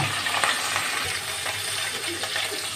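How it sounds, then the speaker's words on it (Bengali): Fish browning in hot oil in a home kitchen, a continuous dense sizzle with scattered pops and crackles at steady loudness. "ভাজি মাছগুলোকে লাল লাল করে একটু ভেজে নেব"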